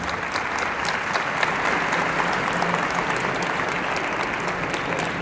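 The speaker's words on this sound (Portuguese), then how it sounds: "Salva de palmas" Seminar audience in Fortaleza giving a sustained round of applause, a loud, even wash of clapping from many people that continues without a break.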